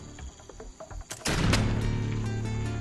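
Gunfire in the turn-based game Expeditions Conquistador, a sudden loud burst with a ringing, rumbling tail that sustains to the end, preceded by soft clicks and light game sounds.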